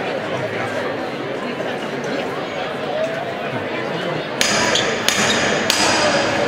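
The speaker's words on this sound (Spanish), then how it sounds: "Esta primera levantada va a tocar el martillo Enrique Santos, que era su hermano." Hammer knocker struck on a Holy Week procession float to signal the first lift, a few sharp metallic raps sounding near and loud over a steady murmur of a street crowd.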